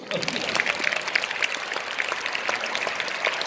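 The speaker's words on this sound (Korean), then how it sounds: "박수 한번 쳐주십니까?" A crowd applauds steadily, dense clapping close and sustained throughout with scattered louder claps.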